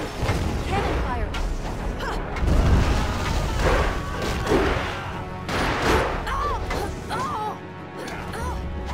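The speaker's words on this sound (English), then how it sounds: "Cannon fire!" Heavy cannon blasts from the Jade Empire video game, booming repeatedly amid dense game combat sounds, with a voice speaking over the noise.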